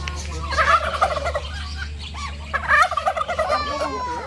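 A turkey on a family farm gobbling noisily in repeated rattling bursts, close and loud, with a faint hum underneath.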